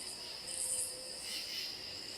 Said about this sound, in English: And we do have crickets